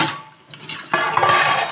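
A child washing dishes at school: a short burst of running water and a brief clatter of utensils, close and fairly loud, with no talk.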